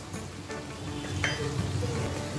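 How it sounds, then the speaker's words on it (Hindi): Dry ground spices (coriander, turmeric, salt) are stirred into a pan while frying for dahi mirchi, with a soft, steady sizzle and light spoon scrapes, quiet and close. "मसाले को भी अच्छा मिक्स कर लेंगे।"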